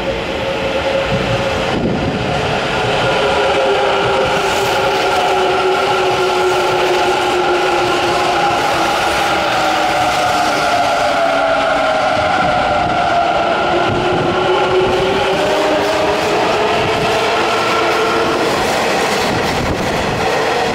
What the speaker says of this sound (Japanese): A local train bound for 大和西大寺 is arriving at track